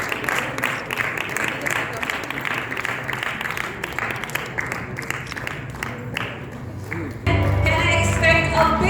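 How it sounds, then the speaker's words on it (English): Audience applause at a West Bengal direct selling association press meet, a dense crowd of clapping hands rising steadily, then shifting into louder music-like sound near the end. "A big round of applause."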